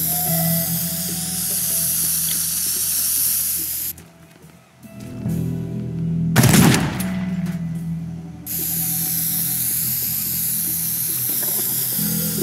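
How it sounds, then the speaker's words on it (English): Spray cans hiss in the voxel game Teardown, long continuous bursts of spraying broken by a short gap and a loud rough crackle in the middle. "we're just gonna have to use the spray cans"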